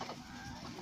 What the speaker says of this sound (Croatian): Evo, upravo ga patke love.